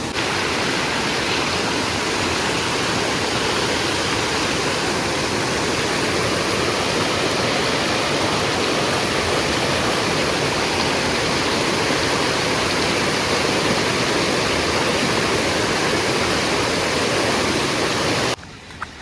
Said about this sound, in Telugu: వాటర్ ఫాల్ వస్తుంది.